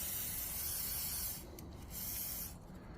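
WD-40 hisses from a spray can in short bursts, a close, airy spray that pauses briefly and resumes twice.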